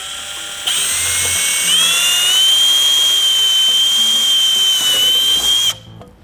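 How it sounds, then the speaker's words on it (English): A power drill with a 3/16 bit bores a pilot hole in a plastic F30 BMW bumper, a loud steady high whine spinning up and holding for about five seconds before stopping abruptly. "what I like to do is I like to drill a pilot hole"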